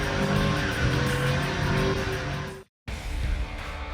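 A 2006 Trailblazer SS being driven hard, its engine roaring loudly and steadily with tire noise, broken by a sudden brief cut before the roar resumes.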